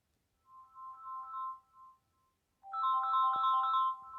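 A phone ringtone plays alone in two bursts, a softer melodic trill followed by a louder, fuller repeating ring after a short gap, with no talk over it.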